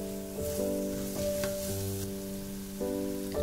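Chicken tikka mixed with tandoori masala and garam masala sizzles steadily in a pan, with soft scraping stirs and a faint background hum throughout, no voices.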